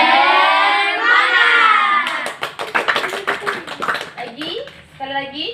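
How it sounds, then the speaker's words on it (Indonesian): A group of students in a school group-counselling session performs a rhythmic spirit clap, starting with a loud unison shout and then breaking into crisp, patterned hand claps mixed with short chanted syllables, close and lively. "1, 2, 3, tepuk semangat."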